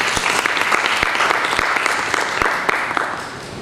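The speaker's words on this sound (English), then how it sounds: "Claps to PSIM." A conference audience at a PSIM medical society gathering breaks into applause, a dense burst of clapping with sharp individual claps standing out, fading slightly toward the end.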